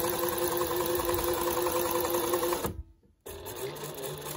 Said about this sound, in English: top stitching helps hold this edge together